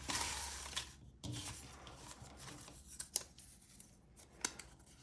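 Paper raffle tickets for a charity prize draw are shuffled by hand, giving a soft, continuous papery rustle with a few sharper crinkles and flicks, fairly quiet and close.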